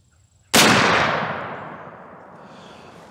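A single loud rifle shot from a Marlin 1895 Guide Gun in 45-70 is fired outdoors at a tomato can, a sharp crack after a quiet moment followed by a long rolling echo that fades slowly.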